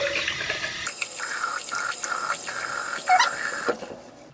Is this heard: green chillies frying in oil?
no